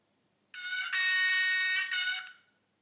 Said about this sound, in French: En F3, le triple coup de klaxon.